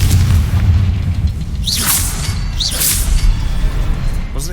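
Confringo fire spell explosions in the video game Hogwarts Legacy, two whooshing fiery bursts over a loud, rumbling game soundscape, with no voices.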